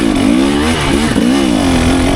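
A 2024 KTM 300 XCW two-stroke dirt bike engine is held at full throttle, giving a loud, steady, close-up buzzing roar with slight wavering pitch for a couple of seconds.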